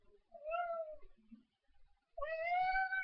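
A house cat gives two drawn-out, close meows separated by a short pause, the second louder and longer than the first.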